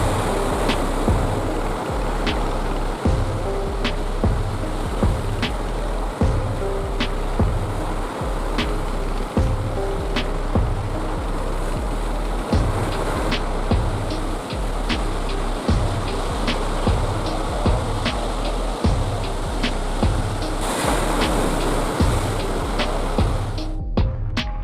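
Ocean waves roar continuously, a loud, dense wash of surf with wind noise and scattered sharp knocks; no talking.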